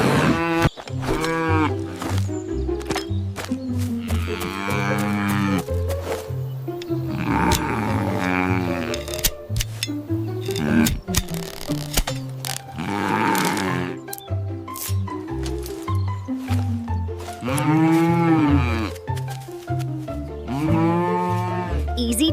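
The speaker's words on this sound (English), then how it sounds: "Moo." A cartoon cow moos loudly and repeatedly, long drawn-out lowing calls with pauses between them, close and clear over a busy animated soundtrack.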